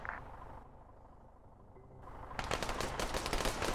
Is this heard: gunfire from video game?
yes